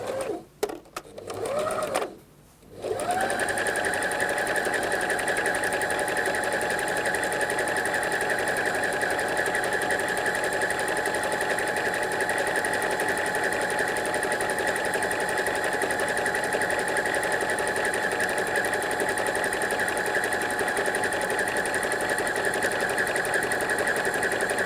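Sewing machine zigzag stitching over the edges of a dress's fabric, running in a steady whirring drone after a few brief stop-and-start bursts at the beginning, close and continuous.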